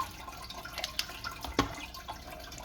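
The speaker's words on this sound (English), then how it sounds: "this is how much kind of water I have trickling into the filter socks area" Water trickles into the empty filter sock area of a Waterbox 110.4 Gen 2 aquarium sump, a steady soft splashing with a few sharper drips standing out, close and fairly quiet.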